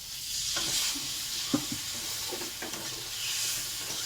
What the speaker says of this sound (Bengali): এটাকে একটু ভালো করে একটু নেড়ে চেড়ে নেবো।